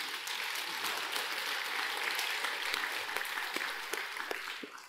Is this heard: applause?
yes